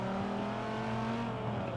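Dodge Viper ACR sliding through a Nürburgring turn in Forza, its engine droning steadily with layered harmonic tones and faint tire scrub, loud and continuous with no talk.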